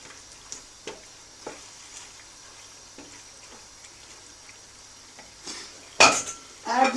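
Pasta being stirred through creamy alfredo sauce with bell pepper and olives in a pan, giving soft scraping and clinks over a low sizzle, with a louder burst of utensil clatter near the end.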